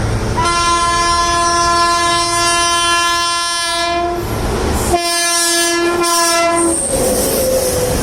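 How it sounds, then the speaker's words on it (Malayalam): A fast-approaching train sounds its horn in a long, loud, sustained blast, then a second blast with a short break, over steady rumbling track noise. No one speaks. "ട്രെയിൻ നല്ല സ്പീഡിലാണ് വരുന്നത്"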